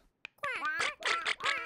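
A cartoon duck in a children's show quacks in a rapid run of loud, nasal calls, several bursts in close succession after a brief pause, with no talk alongside.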